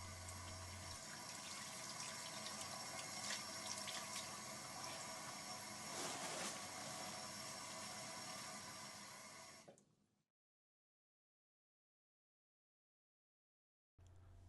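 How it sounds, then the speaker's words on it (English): Hands are washed under a running tap, a steady close rush of water that continues for about ten seconds and then cuts off to silence, with a brief return of flow at the very end. "properly wash and dry your hands"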